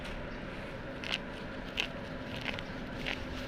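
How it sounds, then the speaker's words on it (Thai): Fresh water spinach stems are plucked by hand in a garden, with four crisp, faint snaps spaced roughly evenly apart over a quiet outdoor background. "ฟังเสียงลก"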